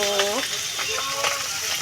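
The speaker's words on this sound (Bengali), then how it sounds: "মাছ অলরেডি ভাজা হচ্ছে মাছ ভাজা হচ্ছে" Fish fries in a pan with a continuous close sizzle and light stirring clatter, while faint tonal sounds drift in the background over the short stretch.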